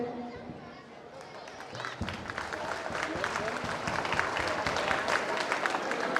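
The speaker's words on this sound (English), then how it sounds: "welcome our guest of honor with a great round of applause. So please clap." An audience at a school annual function applauds to welcome a guest of honor, scattered clapping that builds into a fuller, steadier round, with some crowd chatter mixed in.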